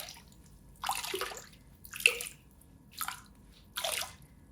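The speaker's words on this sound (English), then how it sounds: "you can take it out of the water and press it" Water dripping and splashing back into a basin as wet yarn is lifted out and pressed, four separate soft bursts spaced about a second apart over a quiet background.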